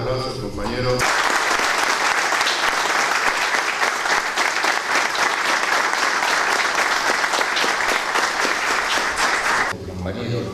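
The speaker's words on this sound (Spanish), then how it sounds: "pido un fuerte aplauso al compañero" Loud, sustained applause from an assembled crowd of workers greeting an invited guest, a dense wash of many hands clapping for about nine seconds, with a voice speaking briefly before and after.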